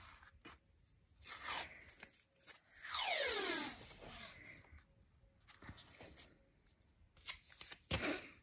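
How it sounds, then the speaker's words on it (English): Masking tape torn off a roll and pressed down onto a collagraph printing plate: a few quiet rips and crinkly peels, including one longer stretching tear, close up with faint handling noises between. "I'm going to just use masking tape for now and see how I get on"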